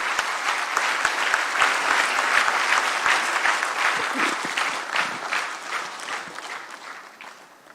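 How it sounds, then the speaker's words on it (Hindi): An audience claps loudly and continuously at a forestry-day government event in honour of Chief Minister Yogi Adityanath, a dense even roar of many hands that gradually fades toward the end. "आप सबकी जोरदार तालियों के प्रणाम के साथ"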